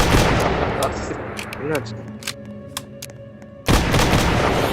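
Bursts of rapid gunfire in the Roblox game Dead Rails open and close the moment, with a quieter stretch of scattered clicks and shots between them; a voice briefly speaks.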